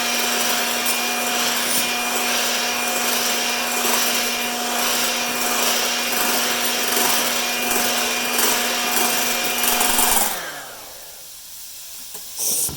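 Steady broadband scraping hiss with a constant motor hum from an electric whisk or mixer beating chocolate chip pancake batter toward stiff peaks, running continuously for about ten seconds before cutting off and winding down to near silence.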